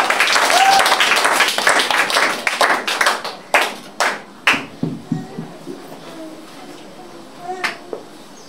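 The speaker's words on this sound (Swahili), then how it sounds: "Makofi kwa Bwana." A church congregation claps their hands together, a dense burst of applause that thins into scattered individual claps and fades out, with voices faintly present.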